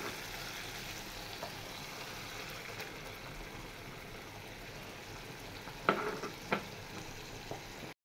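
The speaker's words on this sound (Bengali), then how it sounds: "বাটাটা দিয়ে আরো বেশ কিছুক্ষণ কষিয়ে নিব।" Coconut paste being stir-fried with chingri (prawns) in a pan gives a steady low sizzle throughout, with a few louder stirring scrapes near the end and no talking.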